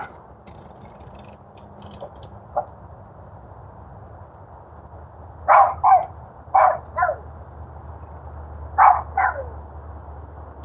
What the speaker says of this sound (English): She barking at the birds in the trees.